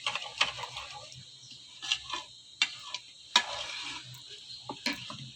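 A spoon stirring yogurt with salt and black pepper in a bowl, giving sparse, bright clinks and scrapes at irregular intervals over a quiet, faintly humming background.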